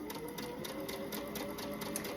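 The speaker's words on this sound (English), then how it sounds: "I'm just gonna sew these two together and go on to the next piece." Sewing machine running a piecing stitch with a quarter-inch foot and guide, joining two fabric pieces for an autumn leaf patchwork panel; a steady, continuous whirring hum with even rapid needle ticks, close and alone.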